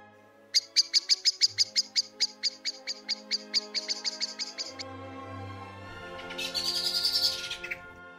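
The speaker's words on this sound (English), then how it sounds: "Here's a couple of blackbird calls to look out for." Bird calls in an outdoor woodland setting: a rapid series of about twenty sharp, evenly spaced chirps over four seconds, then a louder rising-falling shriek near the end, with a low background hum beneath.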